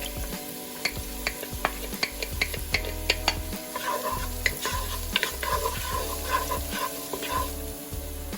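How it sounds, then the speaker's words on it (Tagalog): Medium-size sliced ginger sautéing in olive oil in a pan, part of making chicken arroz caldo: a steady close sizzle broken by repeated sharp clicks and scrapes of a utensil stirring, with no voices. "Then saute ginger."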